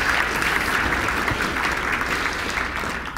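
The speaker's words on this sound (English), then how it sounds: "If everybody could give a round of applause to them, I would really appreciate it" A conference audience gives a sustained round of applause, broad and even, tapering slightly toward the end.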